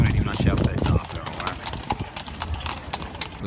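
Horse hooves clip-clop on the street during horse-drawn tours in Kraków's old town, a steady close rhythm of hoof strikes under a busy outdoor murmur of people talking.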